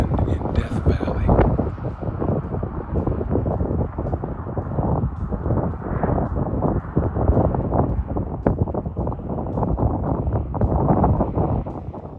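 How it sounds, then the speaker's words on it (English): Desert wind in Death Valley blows steadily and loudly for the whole stretch, with gusty buffeting rumble against the microphone and no clear voices. "we're in the desert, and just listen to the wind in Death Valley."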